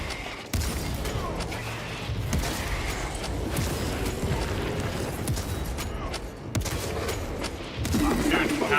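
Gunfire in the Warhammer 40,000: Space Marine 2 video game crackles in dense, rapid bursts amid mechanical clanks, loud and nearly continuous across the clip.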